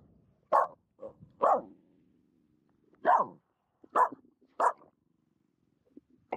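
A dog on a snowy outing gives a series of short, sharp barks at irregular intervals, about six in all, fairly close against a quiet background, with no talking.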